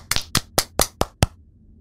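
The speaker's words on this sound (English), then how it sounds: "I think I earned a round of applause for that." Six sharp, evenly spaced hand claps from a character in the video game Garten of Banban Chapter 4, close and loud with brief silence between each, then quiet.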